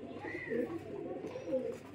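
Rampuri pigeons in a home loft coo softly at close range, low rolling calls over a faint background murmur.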